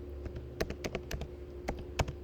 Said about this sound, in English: I'm typing and talking here,